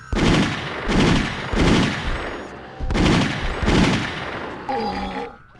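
Bursts of automatic gunfire in the RoboCop video game, loud and close, coming in several rapid volleys with short pauses between them and a brief mechanical whir near the end.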